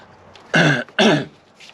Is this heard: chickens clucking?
no